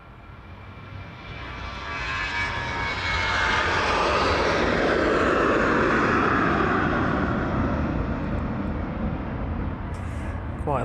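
Ryanair jet airliner on its takeoff roll and climb-out from runway 27 at East Midlands Airport in the evening, a roaring engine rumble that swells from quiet to a loud, sustained thunder and then eases slightly as it passes.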